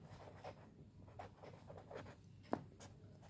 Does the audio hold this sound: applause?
no